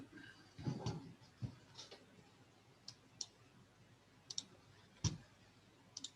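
A computer mouse clicks sharply several times at irregular intervals, faint and close, with soft handling noises between the clicks.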